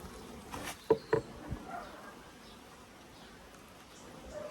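Faint buzzing of bees around an opened Langstroth hive on a UK bee farm in May, with a couple of brief close knocks and a low background hum, no speech.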